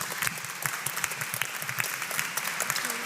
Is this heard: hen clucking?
no